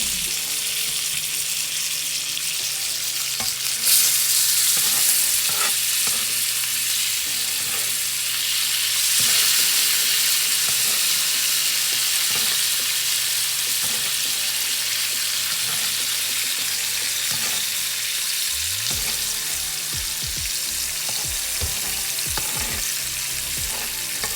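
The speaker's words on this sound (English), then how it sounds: "You want to get this butter flavored with that garlic, those herbs. Then we'll just start basting." Pork chops basting in sizzling garlic and herb butter in a frying pan, a steady loud crackling fry with spoon scrapes and clinks toward the end, no talking.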